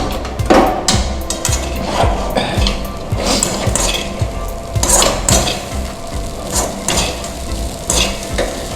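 Cooked poha is stirred in a pan with a metal spoon, giving repeated clanking scrapes against the pan over a soft sizzle in an uneven rhythm, close and loud, with no speech.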